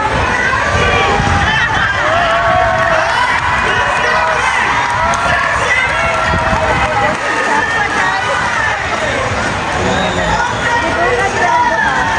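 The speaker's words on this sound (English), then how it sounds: "let's cheer louder for Sassy to win this time" A large audience cheers and shouts loudly and steadily at a birds and sea lions show, with children's voices prominent in the roaring crowd throughout.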